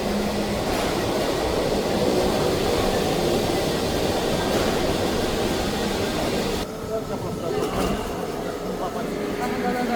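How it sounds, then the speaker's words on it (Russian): An old East German-built train rolls past in Pyongyang, a steady broadband rumble and clatter that stays loud throughout, easing slightly toward the end, with voices talking over it. "Поезд идет. Старый ГДРовский поезд."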